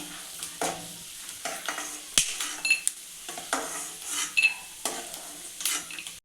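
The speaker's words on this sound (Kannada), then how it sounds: "ಕಡಲೆ ಬೀಜ ಬ್ರೌನ್ ಆಗಿದೆ ಇವಾಗ ಎತ್ಕೊತಾ ಇದ್ದೀನಿ" Fried peanuts are lifted out of a hot oil pan with a metal spoon: repeated scraping and clinking scoops over a soft background sizzle, close and irregular, with no speech.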